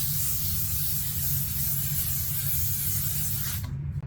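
Drugstore special-occasion makeup setting spray misted onto a face: one steady, close hiss that runs for several seconds and then cuts off abruptly, with no talking.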